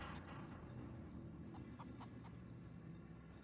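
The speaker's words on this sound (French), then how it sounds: "Il y a des poules aussi." Chickens cluck faintly in a sound effect played during a tabletop role-playing game, with a few short soft clucks over a steady low background hum.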